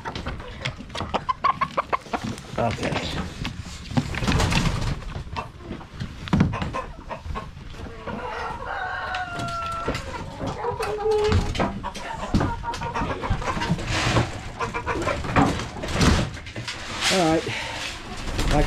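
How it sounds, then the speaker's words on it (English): Chickens cluck and squawk nearby with bursts of wing flapping, while people talk briefly over the busy, noisy coop built from a converted travel trailer. "chickens are flying around."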